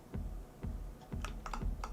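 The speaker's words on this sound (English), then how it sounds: "You see, I'm typing things." Keys clatter on a computer keyboard in close, uneven bursts of separate keystrokes, with short pauses between groups of taps.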